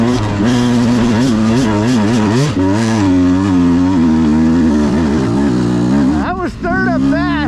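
A 2022 Beta 200RR Race Edition dirt bike rips along at speed in third gear on a trail at Peach Valley, its two-stroke engine loud and close with constantly wavering revs and a brief dip near the end.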